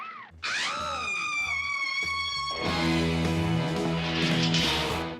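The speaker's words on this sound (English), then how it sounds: "the heroine screams when she sees the main inhabitant of the new world" A woman lets out a long, high-pitched scream that rises and swells, sustained over several seconds with dramatic intensity.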